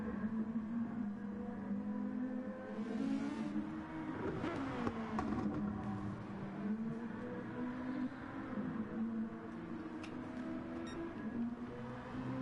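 A Super GT race car laps the Barcelona circuit, its engine a steady, loud drone that rises and dips in pitch through gear changes and corners, continuous throughout with no voices.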